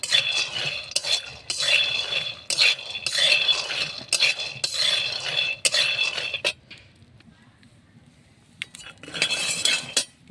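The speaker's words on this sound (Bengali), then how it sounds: "কাঁচা বাদাম ভেজে খোসাটা ছাড়িয়ে ফেলে হালুয়ার মধ্যে দেবো।" Raw peanuts dry-frying in a pan for halwa, stirred with a metal utensil that scrapes and clinks in repeated close bursts, with a brief quieter pause before the stirring resumes.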